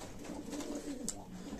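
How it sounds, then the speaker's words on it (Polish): Soft, low cooing of racing pigeons murmurs steadily throughout, with a brief brighter chirp partway through; no voices. "Gołębie są naprawdę super."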